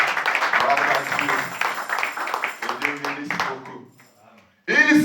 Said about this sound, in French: À donner d'abord une acclamation au Seigneur